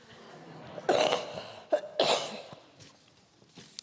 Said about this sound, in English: That's not COVID, that's just my cough.